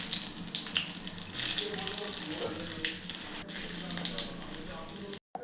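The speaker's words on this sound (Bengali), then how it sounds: "এখন আমরা দিয়ে দিচ্ছি তেলের মধ্যে পেঁয়াজ কুচি।" Chopped onion dropped into hot oil already seasoned with whole cumin and dried red chilli, a steady close sizzle and crackle of frying that runs continuously in a home kitchen.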